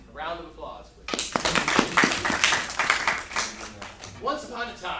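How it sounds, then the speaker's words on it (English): Audience applause at a staging of Oedipus the King, a burst of clapping from many hands that rises suddenly after a voice, holds for about three seconds, then fades as speech resumes. "A round of applause, please."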